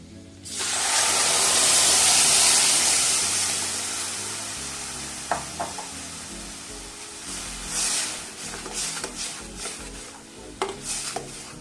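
Ground masala paste drops into a hot pan for clam masala, setting off a loud burst of sizzling that gradually fades, followed by scattered clinks and scrapes of stirring.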